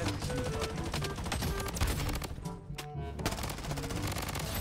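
Rapid automatic fire from a gold camo AUG rifle in the shooter game Bloodstrike, loud and continuous bursts of crackling shots with a brief dip before firing resumes.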